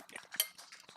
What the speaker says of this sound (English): I have a bite of my half-cooked baked potato with bacon and sour cream